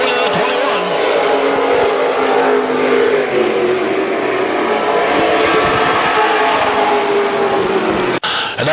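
WISSOTA super stock race cars roar around a speedway at Viking Speedway, a dense, loud, continuous engine drone from a pack of cars under green flag, with a brief drop near the end.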